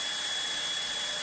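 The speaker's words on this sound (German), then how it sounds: "Und jetzt schleifen wir das ganze" A knife blade is ground down on a 240-grit belt, giving a steady, loud, broadband grinding hiss that holds without a break for the whole stretch.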